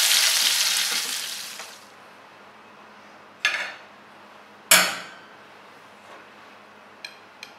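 Toothfish frying in butter and olive oil gives a loud, steady sizzle that fades after a couple of seconds, followed by a few sharp clinks of a utensil against a pan.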